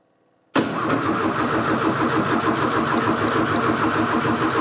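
A starter motor grinds continuously at close range while an engine with no throttle cable connected turns over but fails to fire, a loud, unbroken mechanical churning lasting about four seconds.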